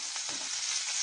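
Sliced green chillies sizzle in hot oil as a tempering for pumpkin curry, giving a steady, close, crackling hiss throughout the short moment.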